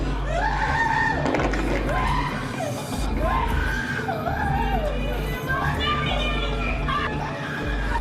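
A family member screams at a courtroom sentencing, voices yelling in rising and falling wails amid a loud, chaotic crowd with overlapping shouts close by.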